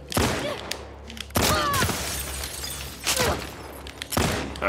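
Several sharp gunshot blasts from The Last of Us Part II, loud and close, spaced a second or so apart with a low steady hum underneath.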